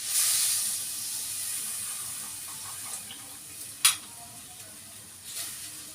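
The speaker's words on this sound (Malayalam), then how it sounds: "നമുക്ക് പുളിവെള്ളം ഒഴിച്ചു കൊടുക്കാം" Tamarind water hits a hot pan with a loud burst of sizzling hiss that slowly settles into a softer steady steaming, with a sharp clink partway through.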